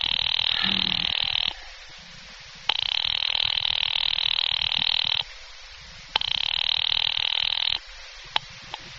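An old-style telephone rings in long bursts, three rings separated by short pauses, loud and close, with no talking.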